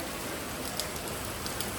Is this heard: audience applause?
no